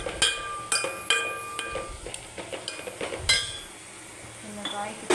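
Metal utensil clinks and scrapes against a pan as ridge gourd pieces are mixed into tomato, a run of sharp, irregular knocks close by with no talking.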